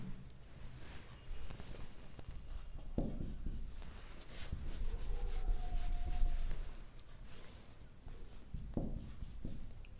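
A math equation is handwritten stroke by stroke, giving dry scratchy rubbing sounds of irregular length. It is close and moderately loud, with no one talking.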